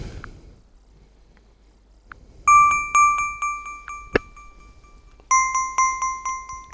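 A phone app call tone rings out in two bursts of quick, bright, repeating electronic chimes, fairly loud and close, after a quieter stretch.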